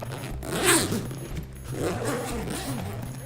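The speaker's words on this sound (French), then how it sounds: "Il suffit d'enlever les boucles et de défaire la fermeture comme je vais vous montrer." A Kurma Similan bag is unzipped, with close, scratchy zipper pulls in a couple of continuous strokes and some light rustling and clinking, without speech.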